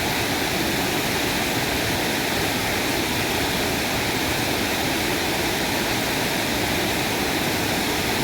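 The Sawdav waterfall at night gives off a steady, loud, unbroken roar of falling water that fills the whole stretch without change.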